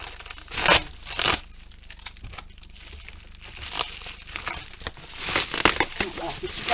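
Crinkly paper packaging of a diamond painting order is torn and unwrapped up close, irregular crackling and tearing bursts with someone speaking briefly.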